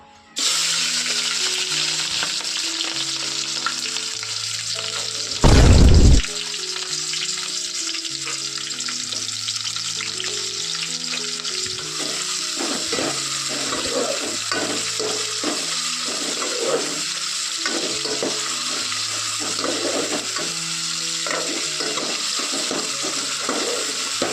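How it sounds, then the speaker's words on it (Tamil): Onion and green chilli fry steadily in hot oil, a continuous close sizzle with a brief loud burst near the start, then crackling and occasional scrapes as the pan is worked; background music plays throughout. "இப்போ வந்து வெங்காயம் பச்சை மிளகா போடலாம்"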